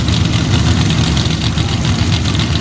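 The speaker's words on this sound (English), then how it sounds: "632 cubic inch power plant with nitrous here in the near lane" Pro stock drag car with a 632 cubic inch nitrous engine and dirt-racing chassis in the near lane at an outlaw drag event, its loud, dense, rumbling roar holding steady and unbroken throughout.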